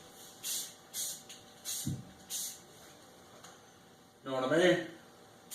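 Short bursts of spray paint put a light high-gloss coat on a drill press under restoration, four brief close hisses in a steady rhythm, followed by someone talking.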